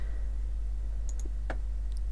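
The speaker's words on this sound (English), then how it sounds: "you can just double click it." Quick computer mouse clicks, a few sharp faint ticks close together over a steady low electrical hum, with no talking.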